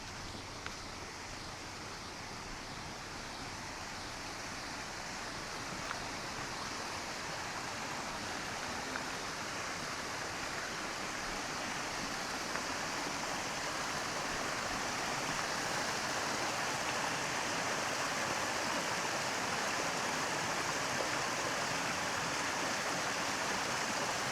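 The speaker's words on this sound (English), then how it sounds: "There's still some snow on this waterfall." A mountain waterfall with lingering snow pours in a constant broadband rush in the North Georgia mountains, steady and fairly distant, with no voices.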